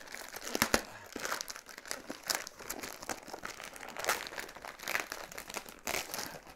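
Christmas present being unwrapped, with paper crinkling and tearing in close, irregular bursts, no talk.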